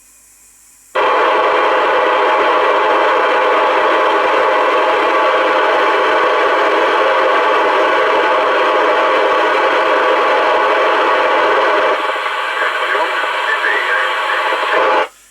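Loud hiss of received transmission from a Binatone Long Ranger 40 4-watt handheld CB radio, with a muffled, noisy voice buried in the static, cutting in abruptly and holding steady for around fourteen seconds before dropping out.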